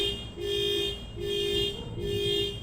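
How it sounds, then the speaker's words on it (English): A car alarm blares in a steady repeating pattern of three long, loud tonal blasts with short gaps between them, heard up close and alone with no talk over it. "That car alarm went off for about 20 minutes."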